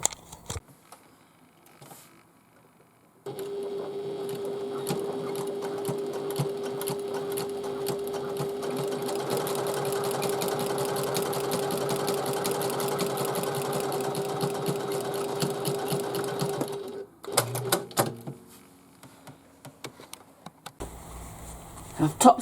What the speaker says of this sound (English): we're just going to do a top stitch at 1/8 of an inch